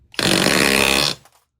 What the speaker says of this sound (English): This is the auto hammer. You hit the button right there, goes.